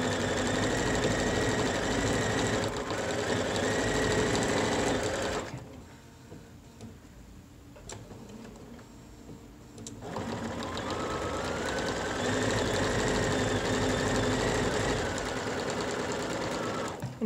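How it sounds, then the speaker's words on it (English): A sewing machine stitches a seam on a cotton mask, running in a steady loud mechanical whir, pausing for several seconds in near quiet, then starting up again and running to the end. "sew as close as I can to the seam edge without running off of it"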